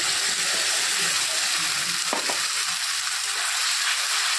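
Ground spice paste frying with browned onions in a pan for an egg and soybean curry, a steady broadband sizzle throughout with a couple of brief utensil scrapes near the middle.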